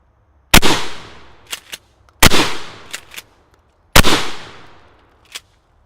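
Three loud, sharp AR-15 gunshots fired at a hard drive, evenly spaced about two seconds apart, each followed by a ringing outdoor echo and small impact clatters.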